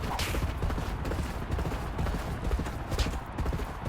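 Racehorse hooves pound in the G1 Jockey horse racing video game, a dense rapid galloping patter beneath a wash of crowd-like noise, steady and moderately loud.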